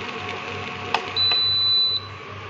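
A single long electronic tone rings out steadily from a kitchen stove as it is switched off after boiling soybeans, preceded by a brief click, clear and close over low background hum.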